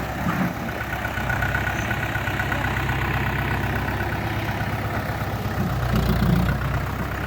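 A Mahindra tractor engine runs steadily through the whole stretch with a low, continuous rumble, close by and fairly loud, during a root-crop harvest. It swells slightly near the end, with no talking.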